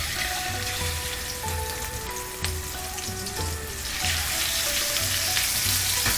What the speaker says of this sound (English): So we're going to start by putting the pork in the pan.